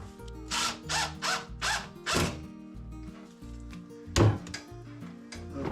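A power drill drives a screw into a full-extension drawer slide with several short whirring bursts, then a sharp knock and a few more brief spins, close and clear with no talking.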